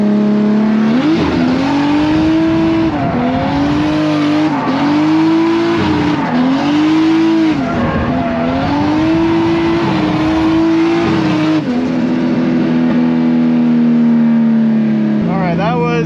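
A boosted Mazda FD drift car driven at full power screams through repeated revs and gear changes, tires squealing between bursts, loud and close for the whole stretch, with a voice talking over it.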